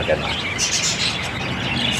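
Pet birds chirp in breeder cages, a busy, continuous chatter of close tweets with a person's voice talking over them.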